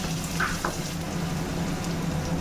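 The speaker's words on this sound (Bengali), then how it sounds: "এবারে এই যে এই রসুনটা ফোড়নে দিয়ে দেবো" Garlic tempered in hot oil for a Bengali lote fish dish, crackling with a steady, close, dense sizzle that holds evenly throughout, with no talk.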